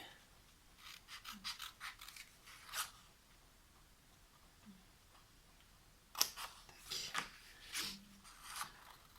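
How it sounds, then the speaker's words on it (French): Scissors cutting a paper tab while making a scrapbooking desk organiser, several quiet, close snipping and rasping strokes in two short clusters with brief pauses between. "on va prendre le ciseau. On va venir couper la languette."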